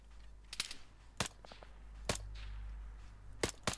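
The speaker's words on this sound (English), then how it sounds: "we're taking MG fire now" Machine gun fire in the video game Arma 3, a handful of sharp distant cracks spaced irregularly, some in quick pairs, over a quiet low hum.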